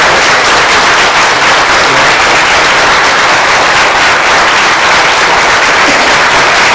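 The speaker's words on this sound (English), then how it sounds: "I wait for the applause to die down because you deserve it" Loud, dense, continuous applause from an audience at a Putnam County, Tennessee commission meeting, a steady roar of clapping hands that holds at full strength throughout and is heavily saturated.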